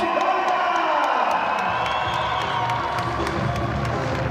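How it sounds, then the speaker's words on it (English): A crowd at a women's Premiership rugby match between Saracens and Leicester Tigers gives a warm ovation, with steady applause mixed with cheers and whoops, a dense, fairly distant wash of sound that holds throughout. "you can hear the ovation there from the crowd"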